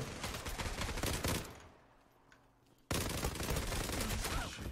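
Dense bursts of rapid automatic gunfire in the shooter game Zula, loud and close, cut by a quieter gap before the firing resumes abruptly.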